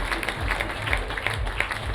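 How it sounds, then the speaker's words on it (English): Steady audience applause at a Women's Day authors' awards night, a continuous wash of clapping hands from a seated crowd lasting throughout, with no voices over it. "Let's have a round of applause for the 3 wonderful women at that table."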